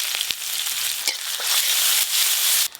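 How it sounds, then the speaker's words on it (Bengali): Chopped onion hits hot mustard oil in a village kitchen, giving a loud, steady, close crackling sizzle with a few brief stirring knocks and no voices. "এখন এই ছোট ছোট পেঁয়াজ কুচি গরম তেলে দিয়ে দেব।"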